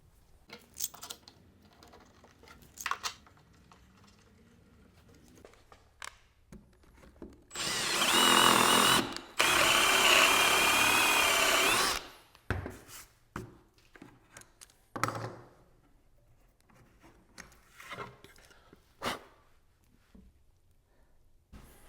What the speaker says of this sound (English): Then all you got to do is insert your drill bit.